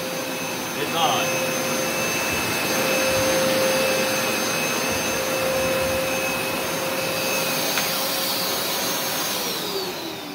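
A carpet cleaner water extraction machine runs in dry-only mode, giving a steady, loud vacuum-like roar with a constant whine that holds for the whole stretch, with no talking over it.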